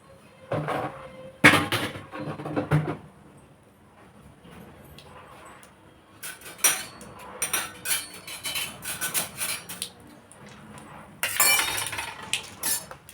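Mustard seeds spluttering in hot oil, with sharp crackling pops in three separate spells: a burst near the start, a longer stretch in the middle and another near the end, separated by quieter sizzling.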